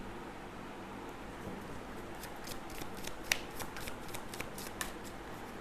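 A deck of cards being shuffled and drawn during a tarot-style reading, with soft papery riffles and flicks in an irregular cluster, one sharper snap standing out, quiet and close with no talking.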